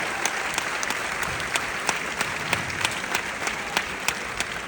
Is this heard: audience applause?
yes